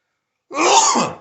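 A single loud, close sneeze bursts out abruptly after a moment of silence and fades quickly.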